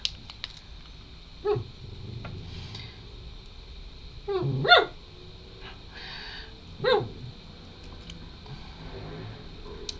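An excited dog barks in a few separate bursts, sharp yips and louder barks spaced a couple of seconds apart indoors, close to the microphone with quiet between.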